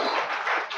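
Warm burst of audience applause welcoming guests to the stage at a literary gathering in Raipur, many hands clapping together in a dense, fairly close wash of sound.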